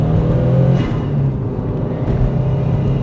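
A Subaru WRX with a swapped-in STI six-speed gearbox accelerating under throttle, a loud, steady low engine drone with road rumble heard from inside the car.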